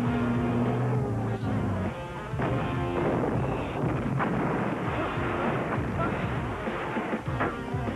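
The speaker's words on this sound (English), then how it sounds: "it's a big action movie with lots of effects. Lots of explosions." Booming explosions and rumbling blasts roll through a dense, loud action movie soundtrack in a 1991 TV preview, with heavy low impacts and crackling debris.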